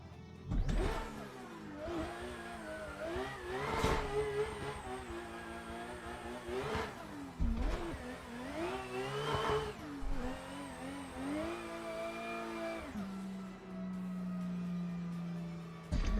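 A car engine in a racing game revs again and again in rising and falling sweeps, loud and close, then settles into a steady, even drone near the end.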